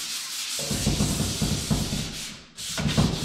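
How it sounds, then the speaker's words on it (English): Sandpaper rubbed by hand over a painted interior door, a steady scratchy back-and-forth rasp close by, with one short pause before the strokes resume. "I usually just go over it with a piece of sandpaper."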